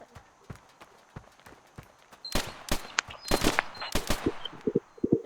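Gunfire in a shooter video game during a bomb-defusal round: scattered single clicks give way to a cluster of loud, sharp shot bursts in the middle, followed by lighter trailing pops.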